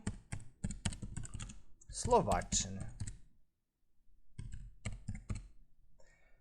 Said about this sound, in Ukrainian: Набираю потрібну назву і клікаю ОК.